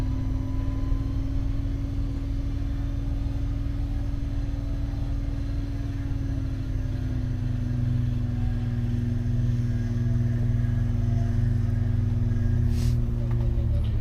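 A vehicle's wheels spin and dig in deep snow during a blizzard, its engine a loud, steady rumbling drone that holds throughout, with a slight shift in pitch partway through.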